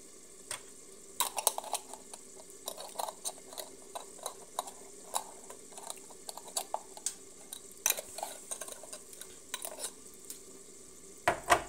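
An old, worn frying pan with a mismatched lid gets handled during cooking: scattered metallic clinks, taps and scraping stirs at close range over a faint steady background hiss, with no talk.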